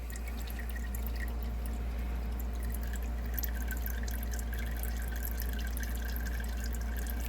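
Liquid resin draining from a 3D print wash tank, a continuous close trickling and splashing stream with a steady low hum underneath, unbroken for the whole stretch, no voices.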